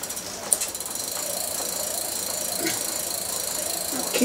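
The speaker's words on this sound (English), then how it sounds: "Let's just cheat and spin the crank." A mountain bike crank spun by hand, its freewheel ratchet giving a continuous fast run of fine metallic clicks, close and moderately loud in a workshop.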